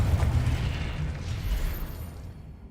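A Confringo spell blasts in Hogwarts Legacy, a dense, loud rumbling explosion that fills the clip with heavy low booming and crackling debris before slowly fading out.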